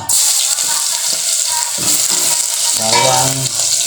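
Loud, steady sizzling of garlic frying in hot oil in a pot, close up, with faint voices murmuring briefly underneath toward the end.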